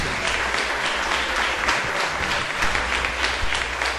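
A church congregation applauds in worship, many hands clapping in a loud, steady wash with slight swells, close and continuous with no talking over it.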